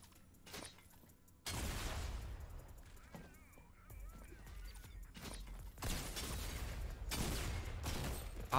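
Video game minigun fire comes in loud sustained bursts of rapid rattling gunfire with sharp onsets, alternating with quieter gaps and some mechanical clatter, with faint speech in places.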